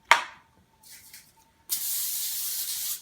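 A can of cooking spray hisses onto aluminum foil lining an 8x8 pan: a sharp short burst, a faint brief puff, then a longer steady spray, all close and alone.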